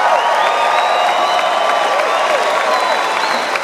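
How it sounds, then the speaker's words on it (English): Applause from a live Boston rock concert audience for a special guest singer, a steady dense wash of clapping mixed with cheers and whoops, filling the whole moment without a break. "how about another round of applause for our special guest tonight"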